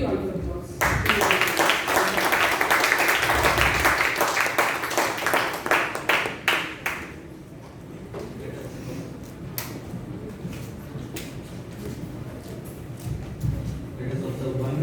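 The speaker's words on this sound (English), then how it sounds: "Let's give a big round of applause." Audience applause at a speech contest, a burst of dense clapping for several seconds that thins out and fades into quieter room noise.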